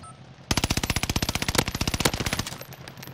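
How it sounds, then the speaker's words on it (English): Rapid automatic gunfire in a shooter video game, a loud burst of about thirty evenly spaced shots lasting roughly two seconds, then a brief fading tail. "Is that you shooting him, Marcus?"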